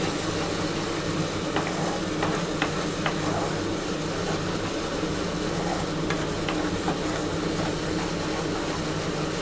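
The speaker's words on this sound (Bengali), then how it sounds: "খুব ভালো করে মশলাটা কষিয়ে নিই" Spice paste for prawn malai curry fries and gets stirred in a pan, a constant dense sizzle with occasional soft scraping taps from the spoon, close and steady throughout.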